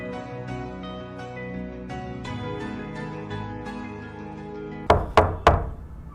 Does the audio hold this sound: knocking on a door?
yes